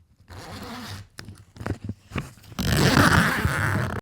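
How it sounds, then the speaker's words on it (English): Zippers on heavy-duty moving bags, recorded up close, zip open and shut: a long scratchy pull, several short quick zips, then a loud sustained rasp, with no voices. "Here are the zippers with a microphone close by."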